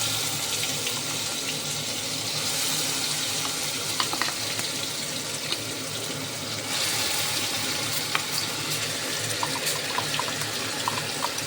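A paste of onion, tomato, garlic and green chilli fries in a pan with a dense, continuous hiss that sounds much like running water, steady and fairly loud with occasional small crackles.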